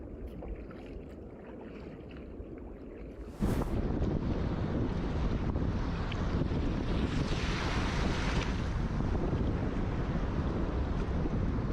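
Waves slap against kayaks on the open water of Kapchagai Lake, with a constant wash of water and heavy wind buffeting the microphone that grows louder partway through.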